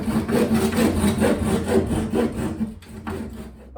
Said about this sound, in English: just take this pull saw and I'm going to cut along it, just literally like this